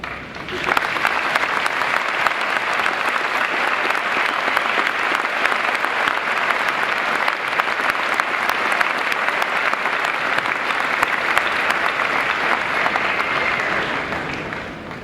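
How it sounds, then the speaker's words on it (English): A large audience at a high school graduation ceremony applauds teachers, a long, loud, unbroken roar of clapping that stays level throughout without talk. "I ask you to join me in applause for these teachers."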